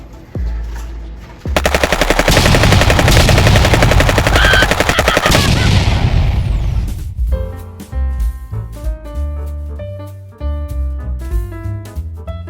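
Rapid mechanical bursts from a Nerf AR foam blaster, a loud sustained rattling volley of several seconds, followed by a quieter stretch of tonal background sound.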